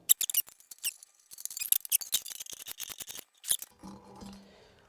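A snare drum is taken apart up close, with irregular small metallic squeaks, clicks and scrapes from hardware being worked loose, fairly quiet, with a low rumble at the very end.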